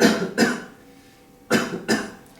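A patient coughs during a chest examination, giving two pairs of sharp, fairly loud coughs, each pair a quick double burst, separated by about a second of quiet, close to the listener with no talk.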